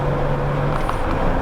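Supercharged Jeep Wrangler JK Unlimited with a RIPP Gen II Stage II kit pulling up a mountain incline in fifth gear at about 9,700 feet, a steady broadband engine and road drone holding a low hum throughout.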